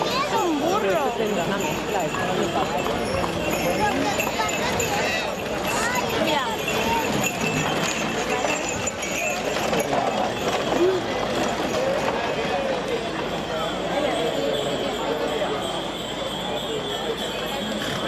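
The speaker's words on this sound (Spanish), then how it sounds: "Es un burro. Tendrá una mezcla, esto no es caballo." Donkey hooves clip-clopping in a steady rhythm outdoors, mixed with constant background noise and people talking throughout.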